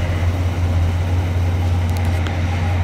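A 1971 Pontiac GTO convertible idling, a steady low engine rumble that holds even and close for the whole stretch with no speech.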